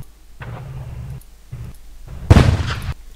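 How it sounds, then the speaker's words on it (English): Loud bursts of weapon gunfire come in several separate blasts, the last one the biggest and sharpest, booming close with short gaps of quiet between them. "Listen to how brutal and loud the weapons are compared to the engine."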